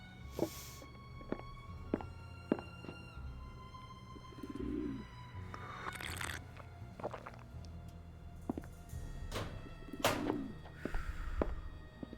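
Pigeons cooing in a Venice setting in the Nancy Drew The Phantom of Venice game, soft throaty coos heard twice among sharp taps, gentle lapping water and quiet footsteps.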